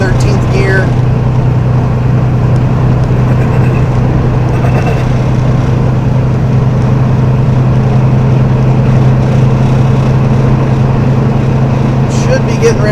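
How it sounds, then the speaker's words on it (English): A semi truck engine with a 13-speed manual transmission shifting up into 13th gear on a slight downgrade, a loud continuous low drone and rumble throughout, with a voice speaking over the engine noise. "We're actually going down a little bit right now, so we're able to kick it back up to 13th gear."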